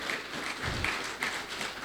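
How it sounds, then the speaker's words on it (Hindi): Applause from an audience of about 550 people in a large hall, a steady wash of clapping that runs for under two seconds without a break and with no speech over it. "सो आपके खुद के लिए तालियाँ।"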